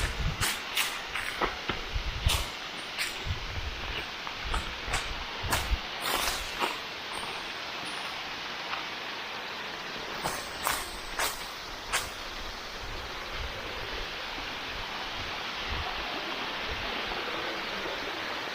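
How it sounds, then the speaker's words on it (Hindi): A waterfall in Uttarakhand, near the Kailash Mansarovar yatra road, roars as a steady broadband wash throughout, with sharp clicks and knocks breaking in over the first twelve seconds and no talking. "तो मेरे पीछे आप देख रहे हैं वाटरफॉल, वाह व्हाट अ ब्यूटी।"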